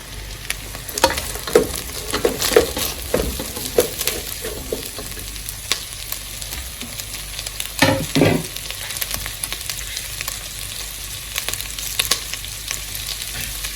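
Carrots and green pepper sizzle and fry in a pan for fried rice, with intermittent stirring and scraping strokes over a steady close-up hiss; no voices.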